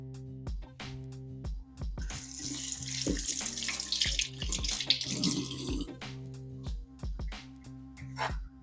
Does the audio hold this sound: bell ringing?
no